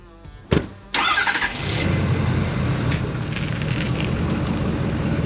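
A truck engine cranks and catches, then settles into a steady running rumble as the vehicle begins to drive, close and fairly loud with wind-like road noise over the engine.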